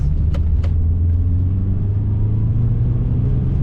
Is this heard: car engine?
yes